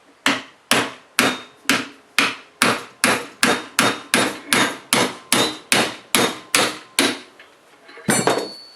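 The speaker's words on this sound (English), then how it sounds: "then you use a much larger punch to drive the second insert out" A large metal punch is struck repeatedly with a hammer to drive a bearing insert out of a rear lower control arm, about sixteen loud, evenly spaced blows, then a brief clink.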